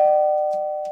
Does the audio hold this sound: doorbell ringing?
yes